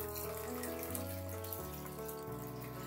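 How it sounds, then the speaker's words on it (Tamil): Fermented rice water poured into a bowl of cooked rice for traditional Tamil pazhaya sadam, a steady close splashing pour that runs unbroken for about three seconds with no talk. "இப்போ இதுக்குள்ள இந்த நாங்கள் எடுத்து வச்ச இந்த பழந்தண்ணியையும் ஊற்றுவோம்."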